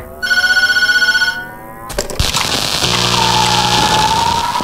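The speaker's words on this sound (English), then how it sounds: "Should we pick up the phone, y'all?" A telephone rings in the horror video game Tattletail, a loud rapid electronic trill lasting about a second, then cut off by a crash and a steady noisy hiss with a low hum.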